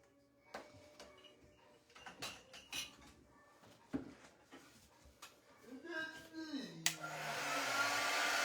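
A hair dryer whirs on loudly and steadily after a stretch of clatter, handling noises and speech, drying paint on a patriotic craft centerpiece.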